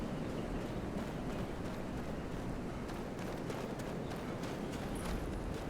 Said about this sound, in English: There's a dead horse outside.